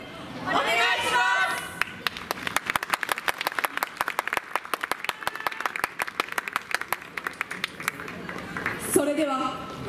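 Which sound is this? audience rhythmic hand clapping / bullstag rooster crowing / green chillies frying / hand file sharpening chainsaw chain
audience rhythmic hand clapping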